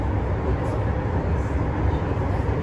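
Steady low rumble of an LRT light rail train riding through Parañaque near Sucat, a continuous close interior drone with no clear speech over it.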